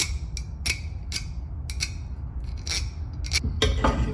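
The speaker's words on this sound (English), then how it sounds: "Scrub some of that residue from welding off of there." Repeated rasping scrub strokes on welded metal edges clean off welding residue, coming in short irregular bursts close up with no talking.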